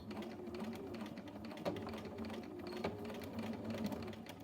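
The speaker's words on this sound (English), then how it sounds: "Again, maybe 3 stitches back and forth, or you can use the bar tack function on your machine." A sewing machine stitches back and forth across a zipper fly on a fly-front zipper, a steady close mechanical whir with light rhythmic clicking and brief changes of pace as it reverses.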